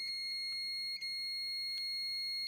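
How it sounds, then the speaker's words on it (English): A multimeter continuity beep while testing copper shielding tape strips inside a Stratocaster guitar body: a steady high electronic tone held for the whole moment, clear and close with no talk. "And that beep tells me there is full continuity between the two."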